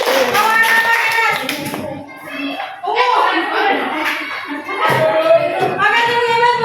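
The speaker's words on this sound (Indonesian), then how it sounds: "tepuk tangan buat Kena" Schoolchildren in an Indonesian classroom clap in bursts for a classmate, loud and close, broken up by the teacher's and children's voices talking between the rounds of applause.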